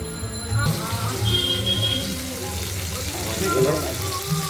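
Pabda fish frying in a pan, a steady sizzle running throughout beneath a voice talking over it.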